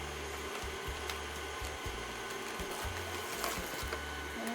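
An electric mixer whips cake batter and sugar for a tiramisu roll cake at high speed, a continuous close buzzing whir with rattling pulses from the beaters against the bowl, steady throughout.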